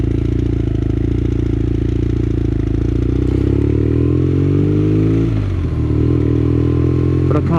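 Motorcycle accelerating along a straight road, loud steady engine drone rising in pitch through the gears with a brief dip at a shift, heard from the rider's position under heavy wind rush.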